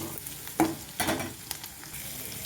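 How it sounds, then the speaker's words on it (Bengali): Onions fry in hot oil with garlic, ginger and green chilli, a low steady sizzle broken by a few louder bursts and spoon scrapes, no voices. "এরপর দিয়ে দিলাম পেঁয়াজটাকেও ভালো করে ভেজে নেব, লাল করে"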